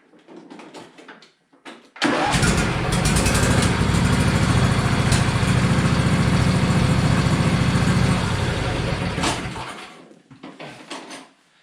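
A John Deere LA135 SE lawn tractor engine starts and idles with a steady, loud, broadband rumble for about seven seconds, then shuts down, with quieter mechanical clatter before and after.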